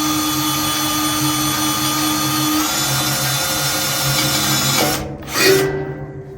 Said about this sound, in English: when you're drilling, you never want to go full speed